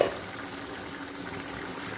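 Chicken frying in a lidded pan with no added water, giving a soft, steady bubbling and sizzling hiss at a low, even level, with no voices.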